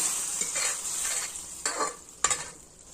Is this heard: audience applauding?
no